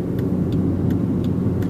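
A small turbocharged hot hatch accelerates along a toll road, a steady loud engine and road rumble holding for under two seconds with faint periodic ticks on top.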